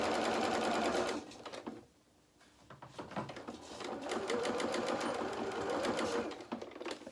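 A sewing machine runs a quarter-inch seam at normal stitch length in a rapid, even stitching patter, stopping briefly then starting up again, close and clear with no talking.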